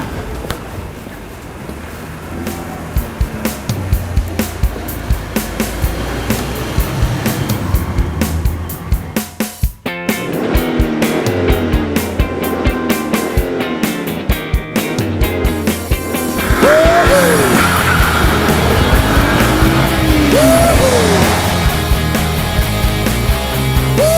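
A car driven hard around a racetrack, its engine roaring and shifting pitch through wind noise, with squeals near the end.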